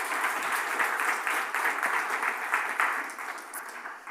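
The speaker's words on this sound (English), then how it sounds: "round of applause for our fantastic panellists that have joined us up here" Applause from a conference audience greeting the panellists, a dense, steady wash of many hands clapping throughout without a break, fairly close and tapering slightly at the end.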